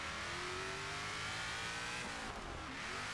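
Revving car engine in Forza Horizon 3 with brake and throttle held together, a steady loud drone with rising harmonic tones that holds for the whole stretch, no talk over it.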